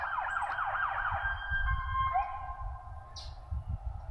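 A sheriff's department vehicle siren wails in the distance, sweeping up and down rapidly, then holding long steady tones, with low rumble beneath and no talk.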